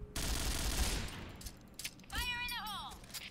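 Rapid gunfire bursts from the online shooter Point Blank during a bomb-planting clan match, dense and loud for about two seconds, then sharper shots with ringing tones over game sounds.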